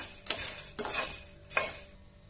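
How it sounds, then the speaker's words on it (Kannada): Chana dal roasts dry in a pan while a spoon stirs it, giving three scraping, rustling sweeps over a soft steady hiss, near and with no voices. "ಈಗ ಲಾಸ್ಟ್ ಕಡ್ಲಿಬ್ಯಾಳಿ ಹುರ್ಕೋತೇನೆ"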